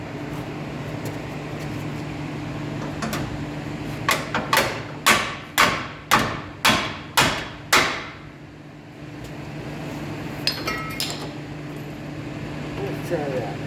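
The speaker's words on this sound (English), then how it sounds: "See if I can hammer it in there a little better." A hammer strikes a part during vehicle damage repair, with about seven sharp metallic blows in a quick even rhythm, close and loud over a steady background hum, followed by a few lighter taps.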